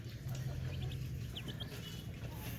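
Newly hatched chicks and ducklings peep in short, faint, high chirps in two brief clusters over a steady low hum.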